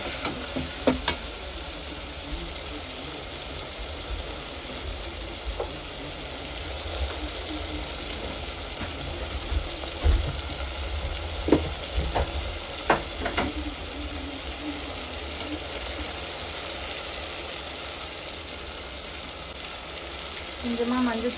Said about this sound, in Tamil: தக்காளி வதங்கிறதுக்காக கல்லுப்பு போட்டு வதக்குறாங்க